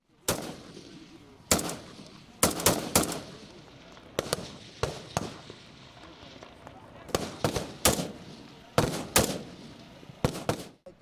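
Reservists fire weapons on a military range during live-fire training, a series of sharp gunshots in irregular single shots and quick pairs at moderate distance, with a steady low background underneath.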